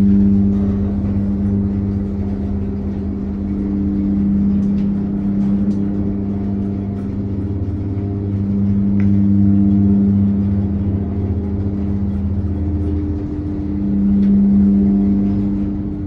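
A Westinghouse hydraulic elevator motor running in the Fort Couch Tower in Bethel Park, PA: a loud, steady low hum and drone with a mechanical whir, swelling slightly at times, heard alone.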